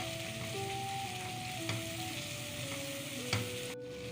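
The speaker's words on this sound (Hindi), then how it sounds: "इनको अच्छे से मिक्स कर लेंगे और तकरीबन 2 से 3 मिनट तक अच्छे से फ्राई करेंगे।" A masala with coriander and cumin fries in a pan with a steady sizzle and occasional stirring. A faint tonal hum runs beneath it, and no one talks.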